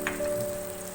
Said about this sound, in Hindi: ये देखिए अच्छी तरह से भून गया है